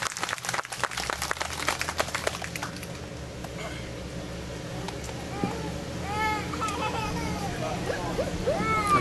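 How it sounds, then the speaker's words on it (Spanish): A burst of crowd applause at a child's three-year presentation ceremony opens, clapping fading within a few seconds into murmuring chatter and scattered voices. "Vengan esos aplausos otra vez."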